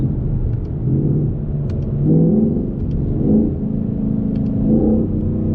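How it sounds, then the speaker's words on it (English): A 2019 Ford Mustang GT PP1 V8 with a Lund tune revs and rumbles steadily while driving, rising in pitch through repeated gear changes, close and continuous with no talk. "So you can see when we're driving, you can drop the gears"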